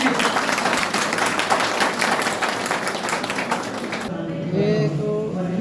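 Steady audience applause fills a Kargil Vijay Diwas eve gathering for about four seconds, then cuts away to quieter room sound with faint voices.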